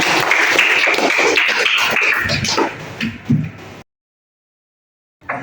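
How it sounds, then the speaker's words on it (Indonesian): Students in a public health class applaud their fellow presenters, a lively burst of many hands clapping close by that tapers off into sudden silence before a faint sound returns at the end. "Ayo tepuk tangan buat rekan-rekannya."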